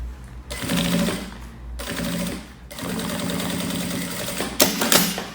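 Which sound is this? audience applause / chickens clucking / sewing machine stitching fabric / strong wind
sewing machine stitching fabric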